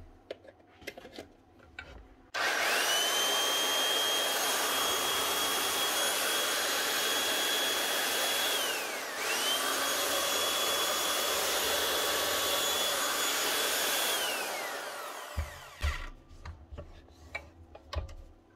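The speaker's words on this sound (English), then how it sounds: "One Makita 9401 240 volt belt sander. Up and running again." A Makita 9401 240-volt belt sander starts up, runs loudly and steadily with a high whining note and a rough sanding roar, dips briefly midway, then shuts off and winds down, leaving quiet workshop knocks.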